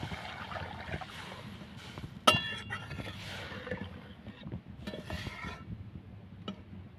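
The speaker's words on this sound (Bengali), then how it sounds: "এখন আমি জল দিয়ে দেবো" Water poured into a pan of sautéed shrimp curry with spiced chili paste, a steady rushing, sizzling wash with one sharp clank of the pan near the start, close and moderately loud, no talking.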